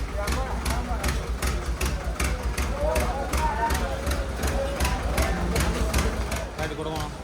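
A tractor engine labours up the steep Kedarnath trekking route, its heavy rhythmic chugging steady and fairly close, with people talking over it.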